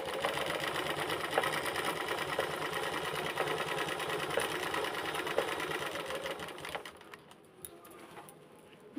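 A sewing machine stitches a fall border onto a sari, running in a steady, fast mechanical rhythm with regular needle clicks, close and loud, then slowing and stopping near the end.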